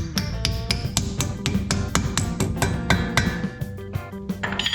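Repeated sharp metallic taps drive a front wheel bearing grease cap into the hub of a 2002 Ford Ranger two-wheel-drive during a bearing and brake job. Roughly a dozen quick, close strikes come in an uneven rhythm.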